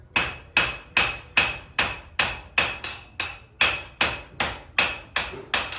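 A hammer forges a small U shape into hot metal for a collar, about a dozen sharp ringing strikes in a steady rhythm, loud and close, with no voices.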